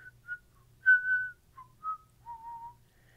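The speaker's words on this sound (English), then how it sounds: "I actually learned how to whistle when I was 26." A person whistles a short, wavering tune of several notes with brief gaps, clear and close with nothing else around it.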